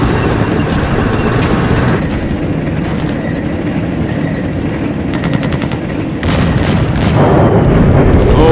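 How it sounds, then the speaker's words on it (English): Artillery fire in the Cold War wargame Flashpoint Campaigns: a steady, dense rumble of distant gunfire and rolling booms runs the full length, swelling louder toward the end. "maybe some of our artillery is actually going to hit a target?"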